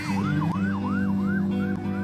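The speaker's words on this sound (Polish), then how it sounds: "I ruszyła syrena" An emergency vehicle siren wails close and loud in a fast rising-and-falling yelp, repeating about every half second over a steady low engine drone.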